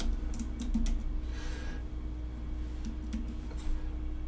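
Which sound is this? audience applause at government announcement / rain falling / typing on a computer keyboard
typing on a computer keyboard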